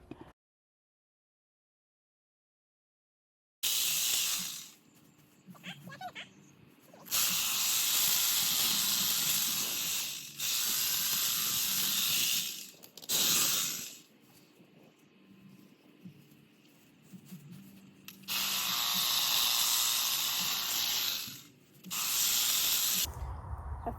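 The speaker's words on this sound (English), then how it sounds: "I finished trimming this bush" Hedge trimmer cutting back a backyard bush during a spring yard cleanup, loud buzzing bursts of several seconds each with short pauses between, after a brief silent start.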